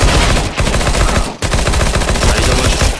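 Rapid gunfire from the XM1014 pump shotgun in Counter-Strike, loud and dense, with repeated sharp shots packed closely together and a brief dip near the middle before the firing resumes.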